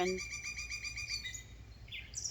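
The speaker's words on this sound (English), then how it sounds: "You'll hear a lot of birds." Outdoor birdsong with a bird repeating a rapid chirping phrase up close, then a shorter burst of chirps from another bird, over quiet ambient background.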